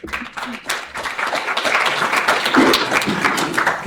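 An audience at a film expo event applauding, with dense and steady clapping that rises and holds throughout at close range.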